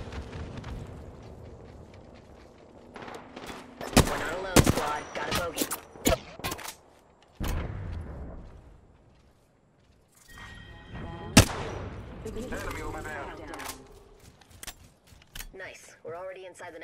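Scattered gunshots and impacts from a firefight in Apex Legends snap sharply in clusters amid game effects and low rumbles, with a voice speaking at times between the bursts.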